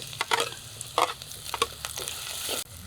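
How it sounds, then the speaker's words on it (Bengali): Chopped onions sizzle in hot oil in a clay pot with dried chillies, cumin and whole spices, while a spoon scrapes and stirs them in quick, uneven strokes. The frying is close and steady, and no one speaks. "এবার আস্তে আস্তে নেড়ে নেড়ে পেঁয়াজগুলো ভেজে নেব"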